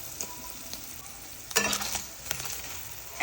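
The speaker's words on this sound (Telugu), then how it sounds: "సో ఇప్పుడు పనీర్ అయితే ఫ్రై అయిపోయింది. నేను ఇంకో సైడ్ ఫ్లిప్ చేస్తున్నాను. ఇలా మంచిగా ఫ్రై చేసుకోవాలి." Paneer fries in a hot pan with a steady close sizzle, broken by louder bursts and scraping as pieces are flipped and stirred, no talk.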